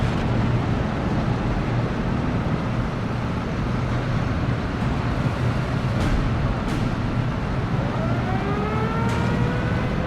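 A column of T-34 tanks rolls forward in a double line formation in the World War II strategy game Steel Division, a continuous low engine rumble and track noise, with a couple of sharp distant cracks and rising whines near the end.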